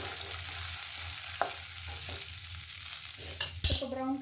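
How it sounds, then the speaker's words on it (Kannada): Urad dal fries in hot oil for chutney with a continuous crackling sizzle, broken by a few sharp stirring clicks and a louder scrape near the end. "ಬಿಸಿಯಾದ ಹಾಗೆ ನಾನು 2 ಟೇಬಲ್ಸ್ಪೂನಷ್ಟು ಉದ್ದಿನಬೇಳೆ"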